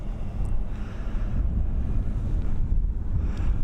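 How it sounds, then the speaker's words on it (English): Blustery wind at Dublin Airport buffets the microphone as a steady, loud, low rumbling roar that continues without a break. "It's a little bit blustery here as well today."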